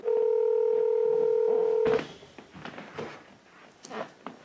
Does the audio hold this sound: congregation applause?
no